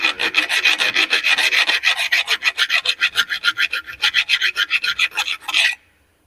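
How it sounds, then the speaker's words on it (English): A round file rasps back and forth over burrs on metal in a quick, even rhythm of loud strokes that stops abruptly near the end. "Just kind of get some of these more obvious burrs out of here. We should use a round file."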